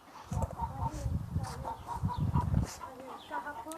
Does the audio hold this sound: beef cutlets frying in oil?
no